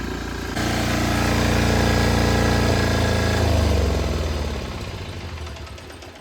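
Cheap Yanmar diesel engine swapped into a small vehicle, running loud and close with a rough, throbbing drone that swells, then drops in pitch and fades as it slows, its exhaust blowing black soot.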